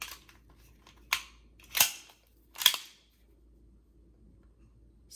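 A CZ52 pistol slide is pressed back into place, making three sharp metallic clicks and clacks about a second apart, close and crisp against near silence.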